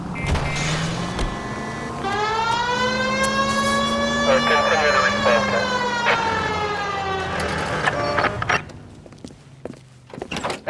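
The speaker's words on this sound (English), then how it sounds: "Hit the siren." A police car siren from the video game L.A. Noire rises and wails loudly for several seconds, with a low engine rumble beneath and brief game dialogue around it.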